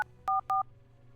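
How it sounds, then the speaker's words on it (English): Two short, clear telephone keypad tones sound in quick succession as a number is dialed on a phone in a video game, with faint background hum and no talking. "Then I dialed the number for the Arcata Police Department"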